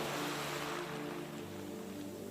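Gentle ocean waves form a soft, continuous wash of surf, an even low rush with a faint underlying hum, steady and unbroken throughout.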